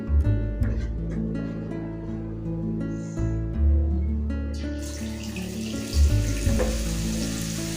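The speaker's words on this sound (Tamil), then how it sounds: "இது போல் எல்லா மாவுலையும் நம்ம பூந்தியாக பொரிச்சு எடுத்துடலாம்." Kara boondhi batter frying in hot oil, a steady close sizzle and bubbling with low clattering and a brief hiss burst midway, no speech over it.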